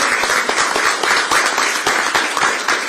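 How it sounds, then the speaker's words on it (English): Audience at a Kaua‘i County Council meeting gives a steady round of applause, dense overlapping claps at an even level throughout with no voices. "Nice round of applause."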